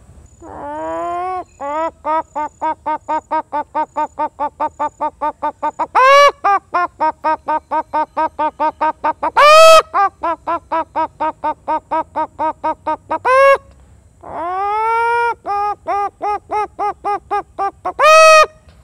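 A voice imitates the call of a broody hen, one that has laid and sat on eggs: rapid, evenly spaced clucks in long runs, broken by a few louder, higher squawks, close and unaccompanied.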